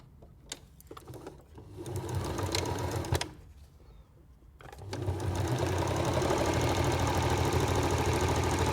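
A sewing machine stitches patchwork fabric blocks together in short bursts of whirring, then runs in one long, steady hum at close range.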